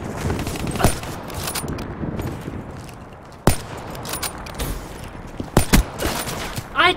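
Gunfire in the video game Call of Duty: Black Ops 3: a few sharp, isolated shots and short bursts over a busy background of game noise, fairly loud and close.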